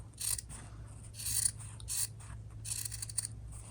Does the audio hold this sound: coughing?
no